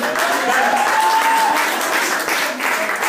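A congregation at a church consecration ceremony in Montreal breaks into loud, sustained applause, dense clapping that carries on throughout with voices mixed into the crowd noise.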